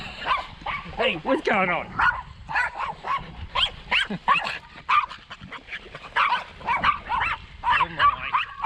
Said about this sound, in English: Boy dog alert.